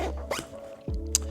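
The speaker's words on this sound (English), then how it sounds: "Boom, done, zipper up." A camera bag packed with a camera, spare lens, light and microphone is zipped shut in a few quick, close rasping strokes with brief pauses between them.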